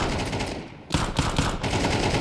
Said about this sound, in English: A couple of bullets spamming through those smokes in the middle of the bomb site